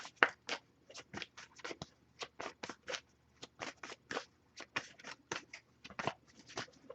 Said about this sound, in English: I'll give it a few more shuffles here too.